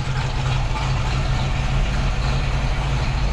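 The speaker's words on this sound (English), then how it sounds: "Really quiet engine under the hood" A well-restored 1960 Chevrolet Corvette convertible idles with a steady, deep low rumble, an even and continuous engine hum held close by, with no talking over it.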